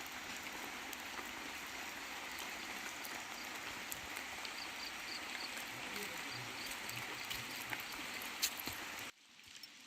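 Steady rain falls on the traditional forest path to Sabarimala, a soft even hiss of drops on leaves and ground, with faint voices in the background. It stops suddenly near the end.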